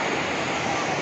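Rushing floodwater in a disaster-hit area near Dehradun, Uttarakhand, a dense, loud, steady roar of water with a voice speaking over it.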